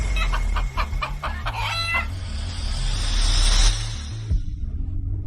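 A chicken clucks in a quick series of close, rhythmic calls, followed by a longer drawn-out squawk over a steady background hum.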